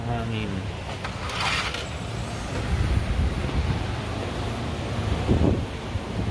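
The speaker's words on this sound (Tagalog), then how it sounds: "Mahangin." Steady wind rushing and buffeting outdoors, a low broadband roar that swells slightly in the middle and near the end.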